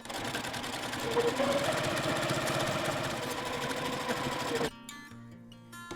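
A sewing machine stitching a seam on a Bali-inspired boho bag whirs steadily and loudly for several seconds, then stops suddenly, leaving quiet mechanical clicks.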